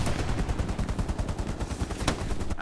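Rapid machine-gun fire in the World War II shooter game Hell Let Loose, a fast continuous burst of loud, closely spaced shots running for a few seconds with one sharper crack near the end.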